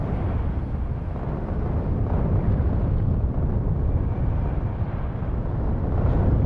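Continuous rumbling explosions in a factory-building video game with biters on, a dense steady roar with crackling texture and no pauses.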